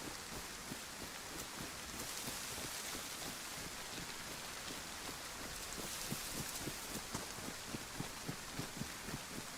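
Steady rain in the survival video game DayZ, a dense even hiss of drops with scattered pattering on surfaces, continuous and moderately loud with no voices.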